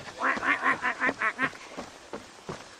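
Ducks quack in a rapid run of about eight loud, close calls, then a few sparser, softer quacks trail off.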